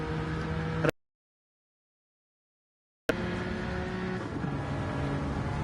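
Racing video game car engine drones steadily with a tonal whine and shifting pitch, cut by a sudden gap of near silence for about two seconds before the engine sound returns just as loud.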